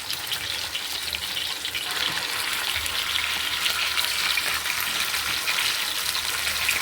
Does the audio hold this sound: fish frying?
yes